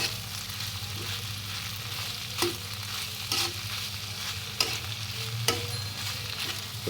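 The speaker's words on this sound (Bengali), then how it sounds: "তো তখন আমরা এখানে চিংড়ি মাছ অ্যাড করে দিলাম। দিয়ে এটাকে আমরা ৫ মিনিটের মতো কুক করব।" Shrimp fry in hot oil in a pan with a steady, dense sizzle, punctuated by several distinct scraping stirs at irregular intervals, close and fairly loud with no talk.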